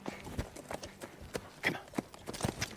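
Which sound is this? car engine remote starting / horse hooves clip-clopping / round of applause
horse hooves clip-clopping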